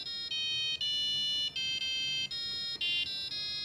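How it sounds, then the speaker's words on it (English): Short electronic beeps from an Arduino driving a small buzzer, a steady string of bright pulses with tiny gaps, close and clear with no talking. "mostly just to create short beeping sounds"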